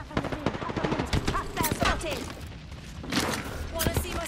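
Rapid gunfire from several weapons crackles in bursts during a squad firefight in a video game, with closer volleys near the start and later, under a player's voice talking.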